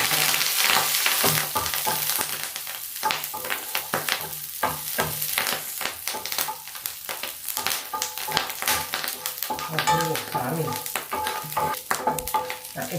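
Moringa leaves frying with garlic in an open pan: a steady, loud sizzle with crackling pops and occasional stirring scrapes throughout, no voices.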